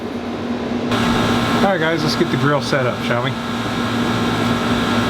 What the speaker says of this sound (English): Pardon the background noise of the AC units.